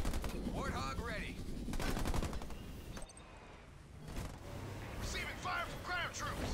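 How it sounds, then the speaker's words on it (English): Ground troops exchange gunfire in the Halo Wars 2 video game, rapid bursts of automatic fire rattling at moderate loudness, with game voices speaking over the shooting. "Receiving fire from ground troops."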